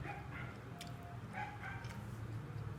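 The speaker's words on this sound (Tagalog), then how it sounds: "Maingay yung aso eh. Nagugutom siguro yun." A hungry dog barks and yips a few times at a distance, sharp short calls over a low hum of room noise in a home where people are eating.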